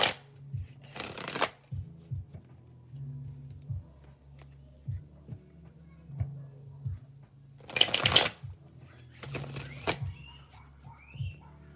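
Tarot cards being shuffled in several quick riffling bursts, close and crisp, separated by softer handling sounds, with no talking.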